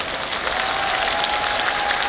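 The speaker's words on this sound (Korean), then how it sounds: "박수 부탁드릴게요" Audience applause fills the hall at the 29th Busan International Film Festival opening at the Busan Cinema Center, a dense, steady clapping that holds at an even level throughout with no voice over it.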